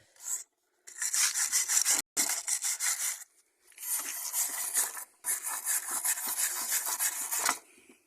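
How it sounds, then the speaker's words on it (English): Rusty motorcycle metal being scrubbed with a wire brush, harsh rasping strokes in three long bursts separated by short pauses, close and moderately loud, with no talking. "now I'm just going to be wire brushing it"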